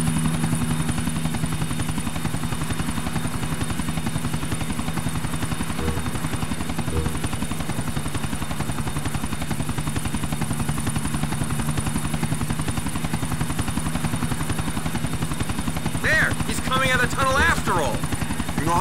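A helicopter in the video game GTA The Ballad of Gay Tony drones with a steady rotor thrum throughout, loud and continuous, with brief higher chirps near the end and no talk.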